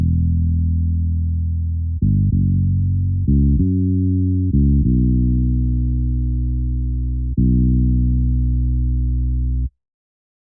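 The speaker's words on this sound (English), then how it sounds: "we have this bass line, and basically what I did is just follow the bass line in the original song" A synthesized bass line built in FL Studio, tracing the bass part of a disco song for a boom bap flip. Deep, sustained notes shift pitch every second or two, loud and alone with no drums or voices.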